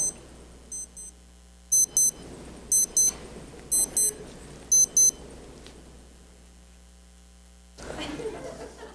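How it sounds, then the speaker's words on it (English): A wristwatch alarm beeps in several short bursts of high, rapid electronic pips over a low room hum, close by, with a brief rustle near the end. "my watch was beeping"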